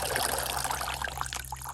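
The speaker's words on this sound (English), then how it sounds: "Water your orchids thoroughly and ensure the water reaches the roots." Water trickles and pours steadily onto orchid potting media, a brief continuous splashing dribble with no voices.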